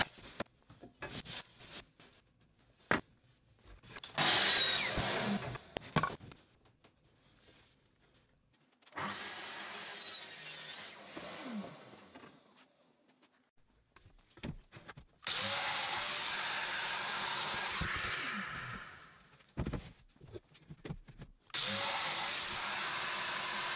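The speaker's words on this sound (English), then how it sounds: "then I could get on to cutting the angles for the fixed upper shelves, and then the domino mortises in the base and sides" Power tools making woodworking cuts for wardrobe carcass parts, sawing angles for fixed upper shelves and cutting domino mortises in the base and sides, in several separate sustained whirring runs of varying loudness between quieter handling noises.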